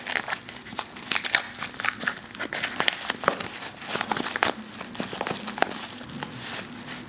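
A small yellow plastic mail package from an online order is torn and opened by hand, giving continuous crinkling and crackling rustles with sharp snaps, recorded close for several seconds without talking.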